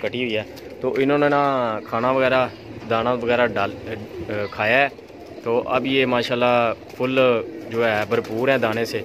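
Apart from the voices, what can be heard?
pigeon cooing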